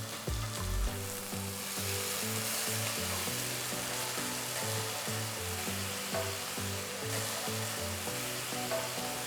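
Tomato puree cooking in a pan with frying onions and ginger garlic paste, giving a continuous loud sizzle and bubbling with a steady rhythm of stirring strokes throughout.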